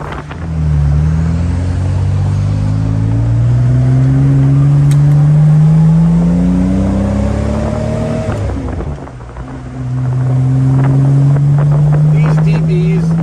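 A 1965 Aston Martin DB Short Chassis Volante engine rumbles and revs as it drives, pitch rising steadily through long gear pulls, with a brief dip before it picks up again; some wind buffeting.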